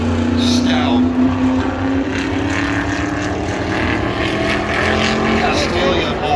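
A big block super modified race car of 900-plus horsepower, with a three-stage wing on the cage, qualifying at Berlin Raceway. Its engine gives a loud, continuous roar that shifts slightly in pitch, with commentary heard over it.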